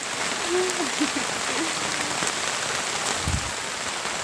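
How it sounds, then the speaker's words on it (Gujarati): Heavy rain pours down steadily on a farm field, a dense, even hiss close by with a brief low thump near the end and no speech. "વરસાદ અત્યારે બહુ છે"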